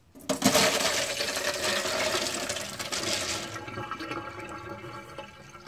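Water and sunflower seeds dumped into a strainer, a sudden rushing pour that splashes and rattles loudly for a few seconds, then tapers into trickling and dripping.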